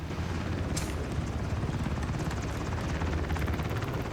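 A helicopter in the video game Ring of Elysium drones loud and steady with continuous rotor thumping throughout, no voices heard.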